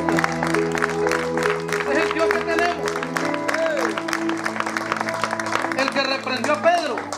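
A church congregation claps in praise of Christ, a steady run of rhythmic hand claps over sustained organ or keyboard chords and voices.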